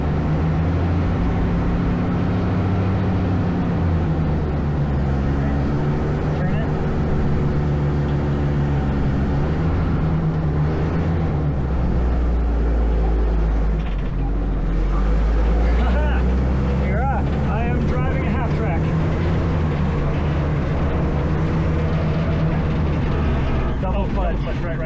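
Tank engine droning loud and steady while the tank is driven, pitch shifting slightly as throttle changes, with people talking over the rumble.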